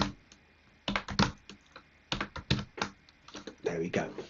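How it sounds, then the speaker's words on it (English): JavaScript code being typed on a computer keyboard, with clustered bursts of crisp key clicks separated by short pauses, close and fairly quiet. "I can actually start typing straight in here."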